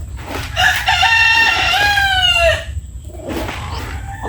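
Farmyard chickens being let out to exercise on a cool morning after the rainy season: a loud, drawn-out rooster crow dominates the middle, with scattered hens clucking before and after over steady background noise.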